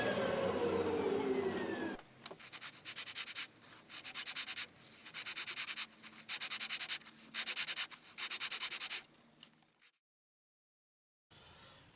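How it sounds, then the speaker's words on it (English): A drum sander works on wooden guitar back braces, smoothing away bandsaw marks in a series of loud, rasping bursts with short pauses between passes, then falling silent near the end. "I could just tidy it up with the drum sander."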